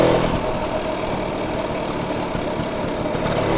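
A BSA Bantam 175 motorcycle engine idles steadily, its close, even single-cylinder putter holding a constant level throughout with no talking.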